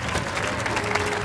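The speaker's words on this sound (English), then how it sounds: "Let's give them another round of applause" A game show studio audience applauds the contestants with a sustained burst of dense clapping from a crowd, fairly close and steady throughout.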